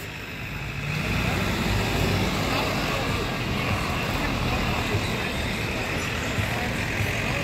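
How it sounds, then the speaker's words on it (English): A Mercedes-AMG S63 pulls away from a stoplight, its engine swelling into a loud, sustained roar after about a second of quieter road noise and holding steady as the car drives off. "look what I found. The AMG S63 taking off."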